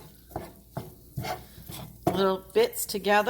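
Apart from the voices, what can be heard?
spoon stirring and breaking up browning turkey in pan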